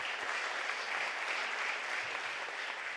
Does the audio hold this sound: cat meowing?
no